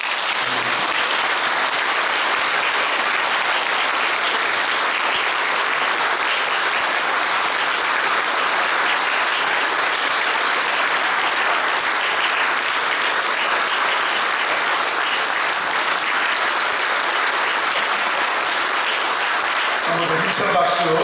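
A church congregation applauding at a retirement thanksgiving service for a pastor, dense sustained clapping from a large crowd filling the room for about twenty seconds.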